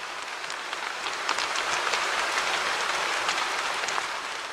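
Gentle rain falls steadily, a dense even hiss with soft scattered drops pattering throughout, close and continuous with no voices.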